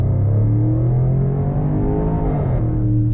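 A Land Rover Range Rover Sport accelerates on a test drive, its engine droning loud and close with a rising then easing pitch from the cabin.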